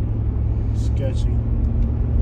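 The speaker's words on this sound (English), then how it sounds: "And that car flew off" A car speeds past on a night street with a steady low engine rumble and road roar throughout, fairly close and continuous, with faint voices talking over it.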